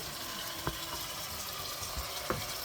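Mackerel goes into a pan of sautéed seasoning for a Jamaican-style lunch, and a steady, even sizzle fills the clip, broken by two soft knocks.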